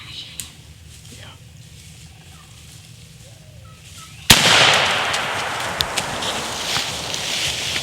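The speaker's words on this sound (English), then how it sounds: "So I shot" A single loud shotgun blast fired at a turkey during a spring hunt in Georgia cracks out suddenly after quiet woods with faint birdsong and soft whispers, then rings off into the distance.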